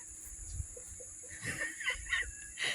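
Chickens in a coop give short clucks and a few higher squawks scattered unevenly, fairly near, over a faint steady background hum, with no talk.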